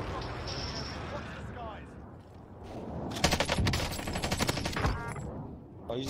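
Rapid automatic gunfire rattles in Call of Duty Warzone, a long burst of tightly spaced shots from a nearby weapon, preceded by quieter game ambience, with players talking over the action.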